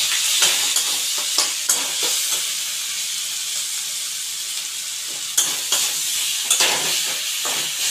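Ground coriander, cumin and chilli powder frying in hot oil in a pan for a pond tangra fish curry, a steady bright sizzle with occasional louder crackles and stirring scrapes, close and alone without talk.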